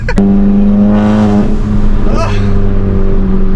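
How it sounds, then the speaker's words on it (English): Engine of a Stage 2 tuned VW MK7 revs up with a steady rising drone as the turbo spools, loud and close, with people talking and shouting excitedly over it. "Listen to the turbo!"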